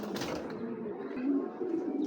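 A big, high-grade pair of pigeons makes low, continuous cooing close by, a soft throaty burble that swells slightly toward the end, with no talk.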